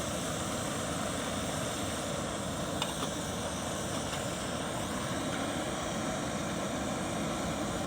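A BRS 3000 ultralight camping stove burns under a Toaks pot on a snowy mountaintop in a blizzard, giving a steady, loud broadband roar that holds unchanged throughout with no talking.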